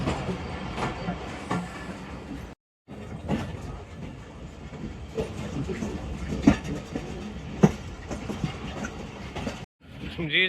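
Train pulling into Khanewal Junction on the Tezgam Express, a steady rumble of rolling railcars with rhythmic wheel clicks and a few sharper clanks, broken by two brief dropouts.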